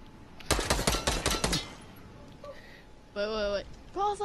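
Shotgun fire in the video game Fortnite: a quick cluster of sharp, loud blasts in the first half, followed by a short stretch of someone talking.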